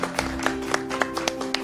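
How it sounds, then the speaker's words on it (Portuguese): Applause at a multimedia journalism showcase comes as a quick series of evenly spaced hand claps over a steady background hum. "Salva de palmas."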